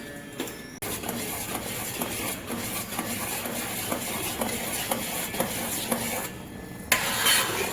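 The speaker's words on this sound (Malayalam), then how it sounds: "ഈ ചക്ക ഇങ്ങനെ ശർക്കരയില് കിടന്നിങ്ങനെ ഇളക്കി ഇളക്കി കൈവിടാതെ ഇളക്കി ചക്ക വരട്ടിയാവും" Jackfruit pulp stirred continuously in melted jaggery on a stove, with steady soft scraping and gentle bubbling in a regular rhythm and a brief louder clatter near the end.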